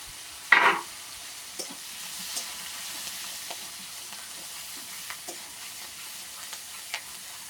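Prawns, onion and garlic frying in oil in a pan, a soft steady sizzle with a sharp stirring clatter near the start and occasional light scrapes and ticks.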